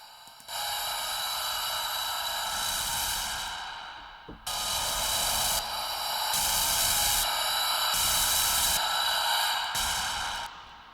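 The Susurration sound design plugin with its heat function pushed to the full extreme, playing a loud, harsh, noisy hiss in sustained blocks that cut in and out, with sudden level jumps and brief gaps.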